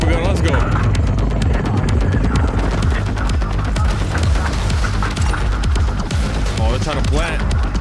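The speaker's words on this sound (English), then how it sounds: "Every time I call the chopper gunner in, and my team ends up killing half of them by the time it comes in and flies in." A chopper gunner helicopter killstreak in the Modern Warfare 2 video game, with a loud, dense throbbing of rotor and booming gunfire bursts that runs continuously through the whole stretch.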